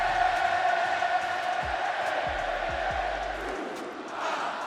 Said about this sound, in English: once Charlotte got on the mic, as the Queen also couldn't get a word in over the boisterous crowd.